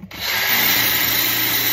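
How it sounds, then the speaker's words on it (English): A wire wheel on a power drill scrubs rust from an old metal trowel, a steady high-pitched whirring grind that starts abruptly and runs loud and continuous. "we're going to hit this with the wire wheel drill again and see if we can get the rest of that rust off"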